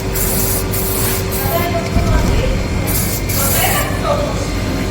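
Silicone spray hisses from a can onto the wire of a smokehouse temperature sensor in short, close bursts over a steady background hum.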